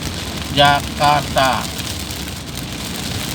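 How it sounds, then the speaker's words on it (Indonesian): Heavy rain at KM 15 on a toll road near Jakarta, a steady dense hiss of downpour throughout, with a voice speaking briefly over it. "hujan cukup lebat"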